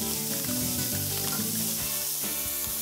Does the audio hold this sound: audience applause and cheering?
no